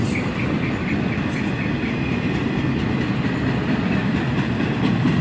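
CSX extra freight train passing close by, a loud steady rumble of rolling cars with wheel clatter and a faint high squeal of wheels on the rails.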